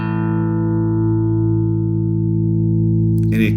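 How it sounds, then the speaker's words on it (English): Bass guitar played loud through a Chase Bliss CLEAN pedal set as a squashy limiter, one sustained note held at an even, compressed level for over three seconds before a brief scrape at the end. "once you pass beyond the middle of the dynamic section here, then it becomes a really like squashy limiter"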